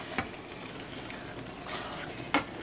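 Garden egg (eggplant) stirring and cooking in a pot, Cameroon style: a steady low sizzle and bubbling with soft scraping strokes and a sharp utensil knock near the end.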